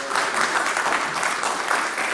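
Brief, steady applause from a small group closes an appointments subcommittee meeting, the dense clapping sustained evenly for a couple of seconds at moderate volume.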